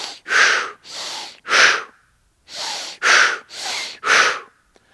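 Forceful breathing during a CrossFit workout, paced in pairs: two sharp breaths, a pause, then another pair and a run of three, each a loud, close breathy burst with a snort-like edge.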